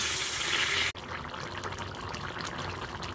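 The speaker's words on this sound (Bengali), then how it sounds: "এখন জল দিলাই" Water pours into a pan of jackfruit curry, a loud rushing splash that stops abruptly, followed by a quieter bubbling simmer, near and with no one talking.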